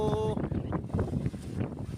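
Strong wind from a low-pressure area in Burias roars steadily across the microphone, with buffeting gusts under a brief tonal sound at the start.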